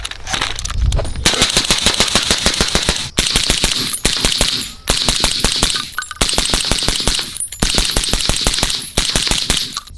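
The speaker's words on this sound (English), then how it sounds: "if you want to pick off some rounds at close range, mid-range, semi-auto, exactly what a Mark 12 is made for" Rapid, evenly spaced shots from a B&T rifle ring out loud and close for about ten seconds, broken only by a few brief pauses, with no talking.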